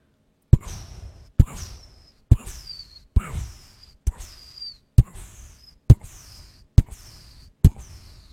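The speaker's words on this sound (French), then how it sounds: "Allez, maintenant on va essayer une petite détonation de fond." Small thuds made for a video game's background detonation land at a steady pace, nine short, punchy low bumps each trailing into a brief airy swish, close and moderately loud with nothing else around them.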